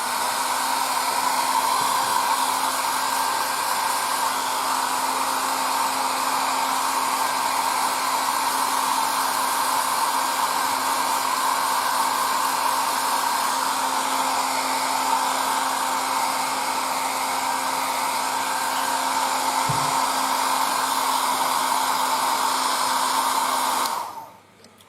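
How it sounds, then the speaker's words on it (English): A hair dryer blows steadily and loudly for nearly twenty-five seconds while drying a weathered scale model on a workbench, a constant whooshing hum that cuts off abruptly at the end. "use the hair dryer. It's very important."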